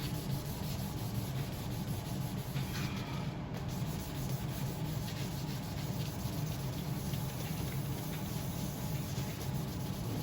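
A guitar body's finish being sanded by hand: a quiet, continuous rubbing hiss that holds a steady rhythm throughout, with no talking.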